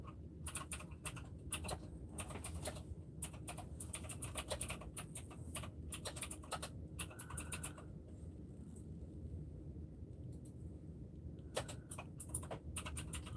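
Computer keyboard typing with dense clattering bursts of clicks in irregular runs, pausing briefly before resuming, fairly close and steady over a low background hum.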